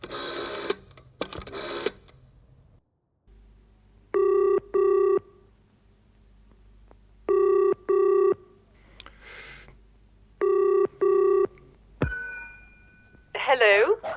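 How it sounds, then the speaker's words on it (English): A house phone in an apartment building rings in three pairs of double rings, with quiet pauses and faint room sounds between them. "I'll give 4B a ring on the house phone."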